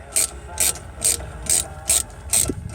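A ratchet clicks in six short, even bursts at close range, tightening the rear brake caliper bolts on an Audi A4 Quattro's front brakes, with no talk over it.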